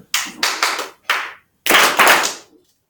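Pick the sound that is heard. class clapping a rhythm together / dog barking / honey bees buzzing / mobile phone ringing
class clapping a rhythm together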